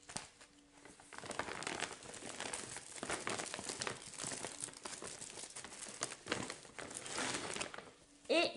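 Bubble-padded envelopes are handled, giving soft crinkling and crackling plastic rustles that go on throughout, fairly faint and close.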